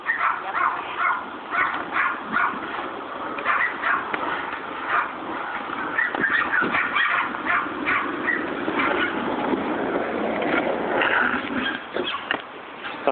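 Several dogs yip and whimper in quick, excited bursts throughout, fairly close, with no talking.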